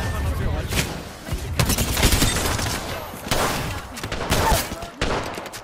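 Rapid bursts of gunfire and booming shots ring out in a shooting video game, loud and repeated in clusters with short gaps between them.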